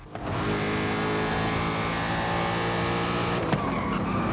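A Ford Mustang Dark Horse engine in the Forza racing video game roars at high revs throughout, loud and sustained, with brief tire squeal and a gear-shift blip near the end.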